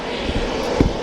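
A turboprop airplane engine and propeller roar steadily up close, a dense, loud drone with slight pulsing throughout.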